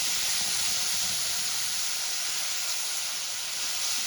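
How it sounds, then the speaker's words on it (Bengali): Tomato and green chili paste frying in a pan over a spice tempering, giving a steady, loud, close sizzle with a bright hiss and no talk. "টমেটো আর কাঁচা লঙ্কা পেস্টটা আমি খুব ভালো করে কষাবো।"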